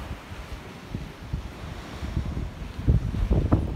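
Waves wash at the water's edge in Gilleleje harbour, a steady low rumble of surf mixed with wind buffeting the microphone, the splashes growing louder and more frequent toward the end.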